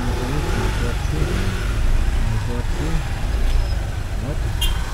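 Car engine passing on a street, a loud continuous motor drone that swells and holds steady at close range with light traffic background.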